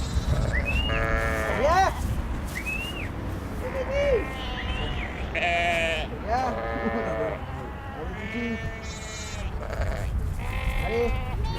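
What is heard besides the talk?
sheep bleating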